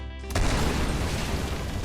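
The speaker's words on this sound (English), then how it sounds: "He commits suicide by explosion." A cartoon explosion effect: one sudden loud blast that rolls on as a dense, noisy rumble for over a second.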